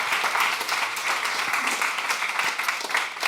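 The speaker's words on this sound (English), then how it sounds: "Let's give him a round of applause and hear what he has to say." Audience applause at a Long Now talk, a dense steady wash of many hands clapping that holds from start to finish, fairly loud and unbroken, with no voices over it.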